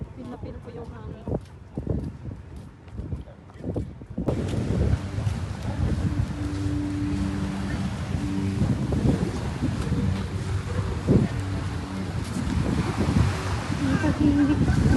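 Strong wind buffets the microphone on a beach during a group outing, a constant loud rumble that begins abruptly and persists, with people talking and surf in the background.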